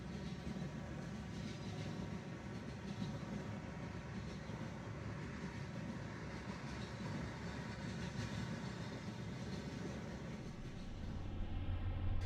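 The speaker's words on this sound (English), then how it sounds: "This westbound crude oil train is continuing straight through on the Chicago line" A westbound crude oil freight train rolls past on a main line, a steady, distant rumble of wagons that continues for the whole stretch and swells slightly toward the end.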